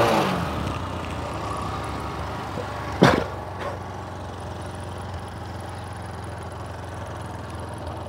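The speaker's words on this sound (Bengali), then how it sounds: "এই গাড়িটা যদি আপনাদেরকে স্টার্ট দিয়ে সাউন্ডটা শোনাই" A second-hand motorcycle engine at a bike dealer, starting with a sharp click-burst then settling into a steady, smooth low idle that runs on continuously and fairly close.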